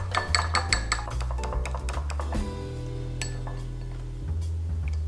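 Eggs whisked with a pinch of salt in a small bowl, a quick run of clinking taps of the whisk against the bowl, close and fairly quiet.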